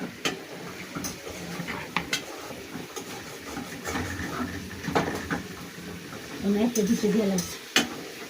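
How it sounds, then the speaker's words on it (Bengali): Small oil pitha cakes frying in hot oil, a continuous crackling sizzle with sharp spoon or utensil ticks scattered through it and a brief voice near the end. "ছোট ছোট করে এক বাটি ভাজছি।"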